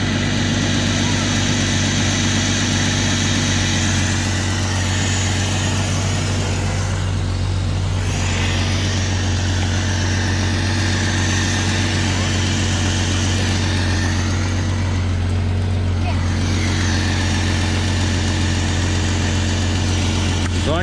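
A Jeep engine idles steadily and close by, a constant low hum with a faint mechanical whir on top. Voices talk over it at times.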